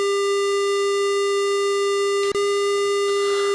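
A steady, buzzy square-wave synthesizer tone holds one pitch, harsh and bright with many overtones, interrupted by a tiny click near the end.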